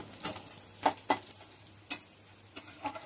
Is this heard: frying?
yes